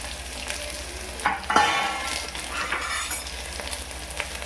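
Onion, cumin, curry leaves and a piece of cinnamon fry in oil for misal pav, a close, steady sizzle with stirring scrapes and a brief louder rush as the pan is stirred.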